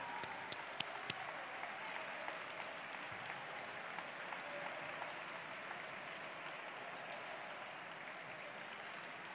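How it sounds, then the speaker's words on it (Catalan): Steady crowd applause at a university graduation ceremony, continuous and even throughout, heard at a moderate distance with a few sharper individual claps near the start. "Un fort aplaudiment, no?, per tots"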